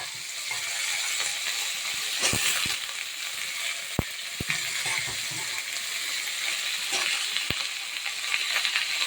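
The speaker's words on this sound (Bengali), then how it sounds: "এবারে আমি চাল কুমড়োর খোসা কুটে রেখেছি, আলু কুটে রেখেছি, এটা দিয়ে দেবো।" Ash gourd peel and chopped potato sizzle in hot oil with fried garlic and chilli, a steady loud crackling hiss punctuated by a few sharp clicks of a spatula against the pan.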